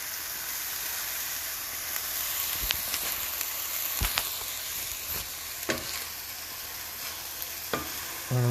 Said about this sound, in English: I'm just going to go ahead and continue to stir this and mix it around